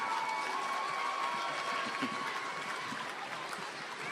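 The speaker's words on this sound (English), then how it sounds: "Let's give them a big round of applause." Students and staff at a school assembly applauding, a broad, even roar of clapping heard from a distance and fairly faint, with a faint steady tone running through it.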